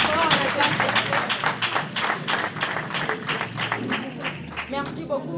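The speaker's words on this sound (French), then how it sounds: "On acclame très fort, on acclame très fort." At a church gift presentation, a crowd applauds in quick, steady rhythmic claps, fairly close and lively, with voices talking over the clapping throughout.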